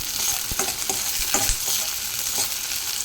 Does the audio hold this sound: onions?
yes